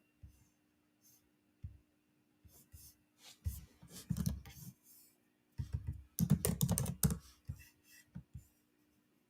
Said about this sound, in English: I'll just type in launch